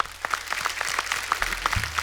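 A studio audience at a Hindi comedy talk show applauds for a music composer, with dense, steady clapping that fills the room throughout.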